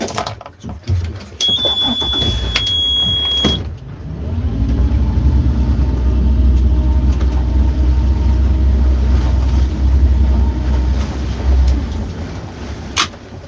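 A fishing boat's engine is briefly put in reverse to hold position over a wreck. A loud, steady low rumble swells after a few seconds and holds, with a brief high whine near the start.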